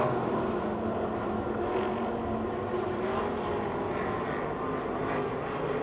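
E-Mod race cars circle Pennsylvania Motor Speedway in a steady, distant engine drone that rises and falls slightly as the field moves through the turns.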